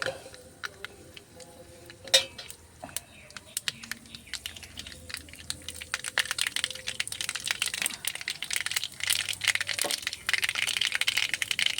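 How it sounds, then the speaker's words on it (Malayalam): Half a spoon of mustard seeds in a little hot oil crackles and pops in a kitchen pan, starting as faint scattered ticks and building into dense, rapid sputtering, with no talking. "കടുകെല്ലാം കൂടെ പൊട്ടി വരുമ്പോഴത്തേക്കിന്"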